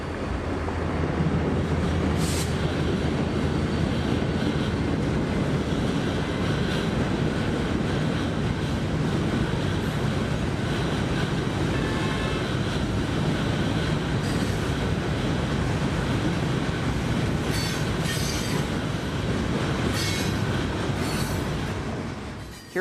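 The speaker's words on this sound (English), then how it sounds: "Hearing the train not far ahead of us" A local freight train on the Tampa S-Line passes close by, a loud continuous rumble of rolling cars with occasional wheel squeal and rail clatter, and no talking.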